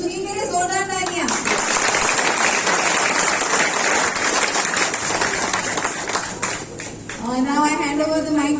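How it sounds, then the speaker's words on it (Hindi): Loud, sustained applause from an office award-ceremony audience at Parikh Packaging, dense clapping for several seconds, with a voice speaking over the start and end. "तो सुनील के लिए जोरदार तालियां"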